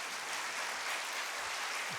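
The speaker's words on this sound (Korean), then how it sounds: "박수 한번 쳐주시죠" Church congregation applauding, a dense steady wash of many hands clapping together, faint and distant, over a couple of seconds.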